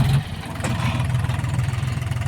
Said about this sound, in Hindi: ट्रैक्टर, जॉन डियर चल रहा है इधर